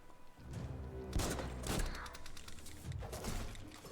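Enemy gunfire in the video game Biomutant, a loud, dense burst of shots and impacts layered with game music and effects, several heavier thumps standing out near the middle.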